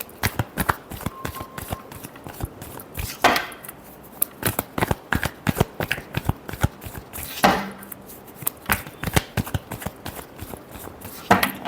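Tarot cards being shuffled by hand, a rapid series of crisp papery riffles and taps with a few heavier bursts, close and fairly loud throughout.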